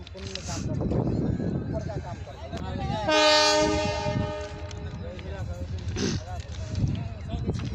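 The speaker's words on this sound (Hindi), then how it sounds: "इंजन के द्वारा स्पीड ट्रायल" A railway locomotive on a speed trial between Nirmali station and Asanpur Kupha sounds a long, loud horn blast in the middle, with the engine rumbling throughout and people talking nearby.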